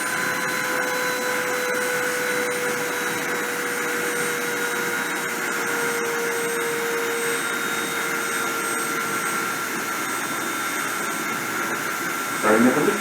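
A high-speed spindle spun up to 30,000 RPM during a deposition run gives a steady, loud whine with constant tones, unbroken for the whole stretch before a short clatter at the end.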